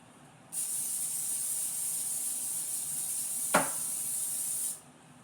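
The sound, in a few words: aerosol vegetable oil cooking spray greasing a wire rack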